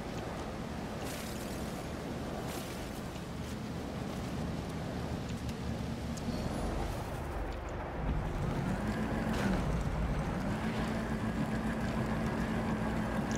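A small motorbike-like vehicle drives in No Man's Sky, a steady rushing engine drone under wind-like noise, with a low tone that rises and levels off partway through.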